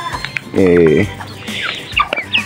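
A brooding hen gives a loud, close drawn-out cluck followed by softer grumbling clucks and faint chirps over about two seconds.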